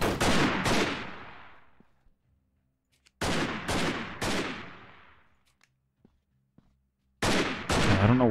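Gunfire in a video game firefight bursts out in three loud, close clusters of rapid shots, each burst decaying into a quiet tail before the next volley erupts.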